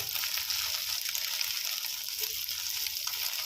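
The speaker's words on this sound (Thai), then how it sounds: "ค่อยๆพลิกด้านนะครับ ค่อยๆ ทอดค่อยๆผัดไปนะครับ" Shellfish fry in hot oil in a pan while being turned and stirred, a steady close crackling sizzle running continuously without pause or voices.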